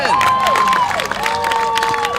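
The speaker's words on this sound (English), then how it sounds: "And Cole Ebling, receives a great applause." A crowd applauds and cheers at a boys' high school soccer game between Hastings and Mahtomedi, with steady clapping, shouts and whistle-like tones, while a commentator talks over it.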